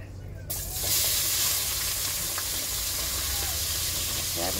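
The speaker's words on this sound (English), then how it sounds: "I'm about to go ahead and fry. Cabbage." Cabbage frying in a pan for a soul food dinner, a steady soft sizzle and hiss that starts abruptly and keeps going at low level, with faint clinks and a bit of talk.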